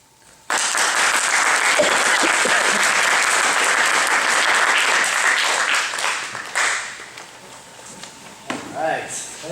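An audience at a 7th/8th grade school debate breaks into sudden loud applause after a speech, a dense sustained wash of clapping that tapers off near the end, with voices and stray bumps under it.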